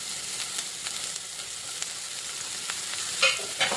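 Chopped garlic and onion fry in a hot pan, a steady close sizzle with occasional stirring scrapes and brighter crackles near the end.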